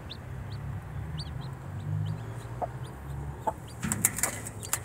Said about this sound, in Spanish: Y esta es la otra, la gallina, la Pecas.